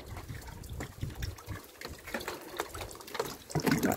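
Water splashes and gurgles unevenly as it is scooped or poured, close and fairly quiet, with no talking.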